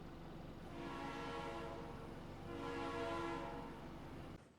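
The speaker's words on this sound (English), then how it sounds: "after seeing the train make its departure" A Verde Canyon Railroad tour train departing through a canyon, its horn sounding in sustained tonal blasts over a steady rumble of rolling cars, heard from some distance with no talking.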